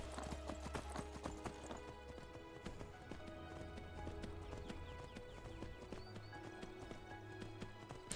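Hooves of a horse trotting in the video game Skyrim clip-clop steadily and close, with an occasional whinny, over game music and ambience.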